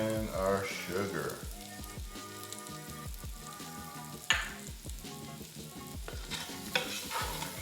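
Green beans and potatoes stirred in a hot pan, a steady sizzle and fry under repeated scraping and clinking of the spoon, close and fairly loud with no talk.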